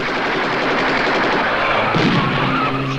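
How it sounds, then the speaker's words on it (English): Soldiers open fire in an old black-and-white film, now colorized: a loud, dense volley of rifle and machine-gun fire that crackles steadily for several seconds with no clear breaks. "Aim 10 yards ahead of them."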